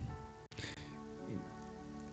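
Heavy rain falls steadily in Tokyo, a dense, continuous hiss of drops on surfaces that stays loud and even throughout, with no voices.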